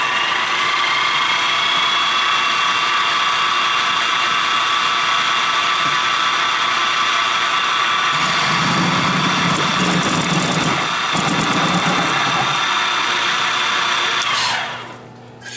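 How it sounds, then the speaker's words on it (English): Drill and milling machine boring a hole while cutting a square key hole in a bevel siding cutter: a steady loud high whine runs throughout, with heavier low grinding from about eight seconds as the bit bites, then spinning down at the end. "this is a drill and a milling machine."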